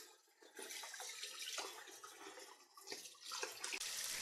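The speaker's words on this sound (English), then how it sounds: "The main thing to do when washing your pork chops is just mainly to make sure you wipe off any gritty part" Running water splashes and trickles into a bowl as pork chops are washed in cool water with white vinegar, with uneven sloshing and handling noises that swell and ebb in close, moderately quiet bursts.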